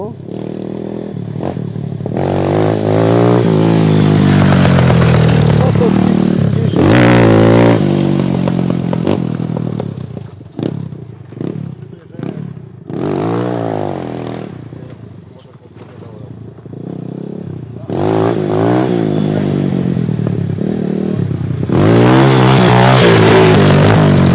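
A motorcycle engine revs loudly and close up in repeated surges, dropping back between bursts and revving again, with people talking over it at times.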